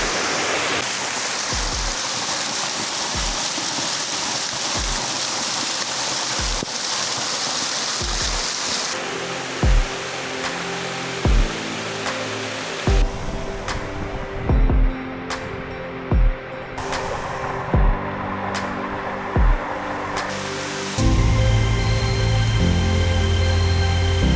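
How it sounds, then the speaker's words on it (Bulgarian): A steady roar of falling water from the highest waterfall in Bulgaria's Rila Mountains fills the whole scene, heard from beneath its spray, with occasional thuds and rustles close by and a louder rushing burst near the end. "Ето ме и на финала под пръските на водопада."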